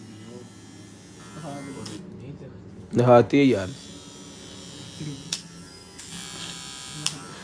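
A handheld electric shaver buzzes steadily at close range beneath ongoing talk, with a brief louder surge of motor whine partway through.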